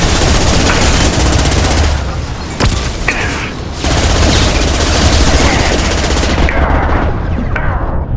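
Heavy gunfire fills a firefight in the video game Mass Effect 2: loud, sustained automatic bursts and booming shots with only brief lulls, backed by battle noise.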